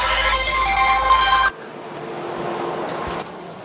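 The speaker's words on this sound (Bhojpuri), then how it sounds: "मेरे मोटो का फोन आ गया" A Motorola phone ringtone plays loud and close for about a second and a half, a bright repeating melodic chime, then cuts off abruptly, leaving faint room hiss and a few soft knocks.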